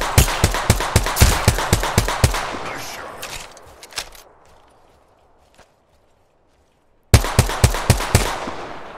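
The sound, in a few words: enemy gunfire in a video game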